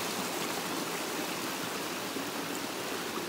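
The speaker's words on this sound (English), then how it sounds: "Got this amazing little creek right here." A small creek near Lake Superior at Copper Harbor, Michigan, flows in a steady, continuous broadband wash of water, with no voices over it.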